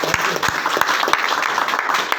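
Loud, dense applause from an audience at a workplace gathering honoring a manager, many hands clapping continuously and close up with no pauses.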